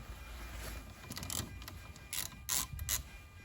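Ratchet loosening the 10 mm positive battery terminal on a Jeep Cherokee, heard as bursts of rapid mechanical clicking and light metallic rattles in short irregular runs, close by, with no talking.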